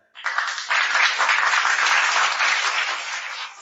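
An audience at a Christian sermon breaks into applause: a dense, steady wash of many hands clapping, loud and continuous for several seconds after a sharp start.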